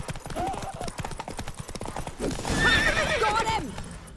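In The Witcher 3, the horse Roach gallops with quick, rhythmic hoofbeats, then lets out a loud, close neigh, with voices speaking over the action.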